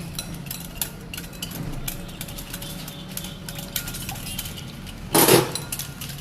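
Salt being mixed into dough in a bowl at home for Bhavnagari gathiya, a close clattering and scraping of a utensil against the bowl, with a brief bright clinking burst near the end.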